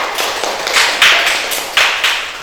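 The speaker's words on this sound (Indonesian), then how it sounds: "tepuk tangan untuk kelompok 1" A group claps briefly for a student team in a classroom, a short burst of hand claps rising and fading in uneven waves, close and fairly loud.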